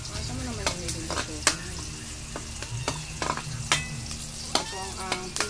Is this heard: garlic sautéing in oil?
yes